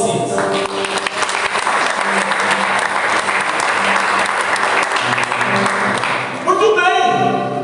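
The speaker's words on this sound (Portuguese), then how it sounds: "Aplauda o Messias." Sustained applause from a church congregation at a worship service, loud and dense for most of the clip, tapering as music enters near the end.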